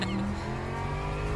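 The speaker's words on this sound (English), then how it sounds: "Bloody hell, this car sounds like a tractor." A Ferrari 499P race car engine in the Le Mans Ultimate video game drones and revs steadily, a tractor-like buzzing mechanical tone with a slight whine, loud and continuous.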